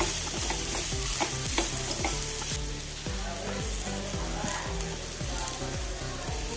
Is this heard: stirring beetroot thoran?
yes